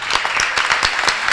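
An audience at a kirtan claps in a brief, dense burst of applause, many hands together, steady and moderately loud.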